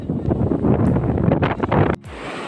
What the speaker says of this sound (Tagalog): Lakas ng hangin dito, grabe.